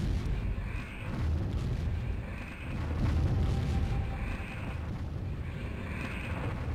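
Deep, rumbling booms of distant artillery from the video game Warzone roll on continuously in waves, with dense crackling blasts layered throughout.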